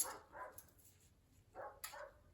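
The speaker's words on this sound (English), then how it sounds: "we've got my neighbor's dog barking like crazy for some odd reason" A dog barks outdoors at a distance, a few faint separate barks in two short bursts over a quiet background.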